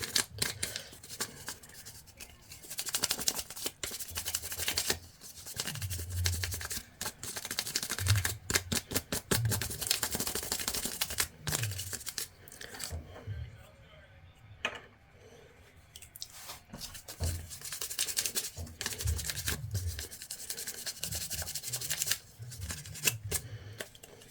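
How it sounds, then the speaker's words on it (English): A finger rubs Rub and Buff wax paste over a finger armour piece for a Cloud Strife costume, making close, continuous scratchy rubbing and scuffing with brief pauses. "I'm gonna have to really rub that out."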